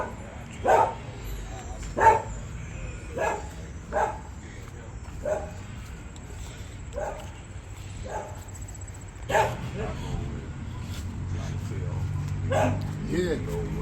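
A big dog barks in a series of sharp, repeated woofs with short yips and whimpers, close by inside a Detroit house, with people talking over and between the barks.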